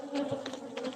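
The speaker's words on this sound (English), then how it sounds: "The amount of bees attacking the camera" Honey bees buzz around an opened beehive, a dense, close drone of many wings with individual bees zipping past the microphone, no talking.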